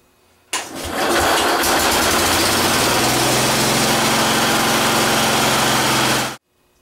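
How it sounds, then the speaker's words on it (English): A Cub 149 tractor engine started with the choke on cranks briefly, then catches and roars loudly at a steady high rev for about six seconds before it cuts off abruptly. "We're going to give it some choke, see if it'll..."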